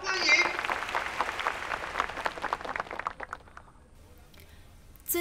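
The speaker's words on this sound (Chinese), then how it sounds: "大家掌声欢迎" A school audience claps for a student stepping up to give a speech. Brisk applause rings out for about three seconds, then thins and fades to near quiet.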